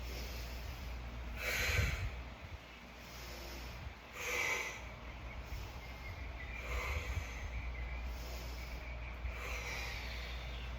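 Heavy breathing during a core exercise, with several forceful exhales spaced a few seconds apart, the first and second the loudest, over a steady background hum.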